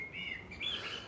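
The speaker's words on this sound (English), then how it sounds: "I can hear the birds tweeting." Faint outdoor birdsong: small birds chirp and tweet in short high calls over a soft background hush, with no voices.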